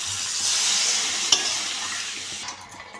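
Water poured into a pan of frying spiced potato, eggplant and pangas fish sets off a loud, steady hissing sizzle, with one brief clink of a utensil before the sizzle gradually eases.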